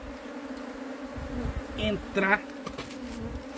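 Bees in a swarm buzz continuously around a hive box in a shed, a steady drone at moderate level while someone speaks briefly over it near the middle.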